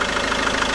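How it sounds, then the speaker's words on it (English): A Kia Carens diesel engine idling nearby, a loud, steady, even rumble with a faint rhythmic knock, heard alone for under a second. "You can see it's not very noisy for a diesel."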